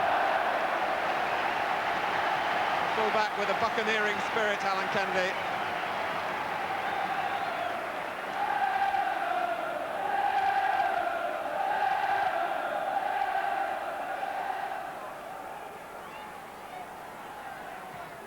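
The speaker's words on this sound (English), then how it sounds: "The crowd rising to him." Football crowd at a Liverpool v Southampton match rising and cheering for full back Alan Kennedy, a broad swell of roaring and cheering that fades gradually under steady commentary.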